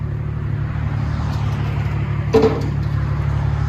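A 2014 BMW 535i with its inline-six running through a straight-pipe exhaust idles in a steady, deep drone, with one brief louder rasp partway through and no talking.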